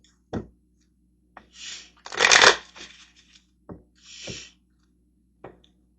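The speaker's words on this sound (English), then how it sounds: "let's go ahead and grab some tarot cards, a couple of those." Tarot cards being shuffled by hand in short riffling bursts, several quick passes with brief pauses between them, close and fairly quiet with no talking.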